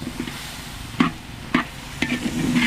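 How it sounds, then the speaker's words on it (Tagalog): Ingredients for chicken tinola sauté in oil in a pan, with several sharp spatula scrapes spaced about half a second apart over a soft, steady sizzle. "Isang gisa na po."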